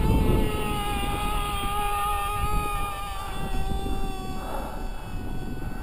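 Small RC airplane flying on a .07 car engine converted for flight, turning an APC 5x3 propeller; a steady, fairly distant engine whine holds a constant pitch throughout, with a slight swell near the end.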